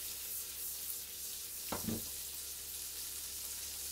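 Mushrooms frying in butter and oil in a big pan give a continuous soft hiss and sizzle, with one brief scrape of stirring partway through; faint and close, no voices.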